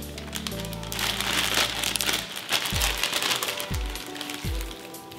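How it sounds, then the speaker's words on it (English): Plastic bag crinkling close up while lemongrass beef for Cambodian skewers is prepared, a busy rustle with a few low thumps and a faint hum underneath. "And we're gonna get our plastic bag ready."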